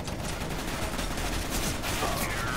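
Dense, continuous gunfire from the video game CS:GO fills the clip: overlapping rapid shots with no clear pauses, fairly loud throughout.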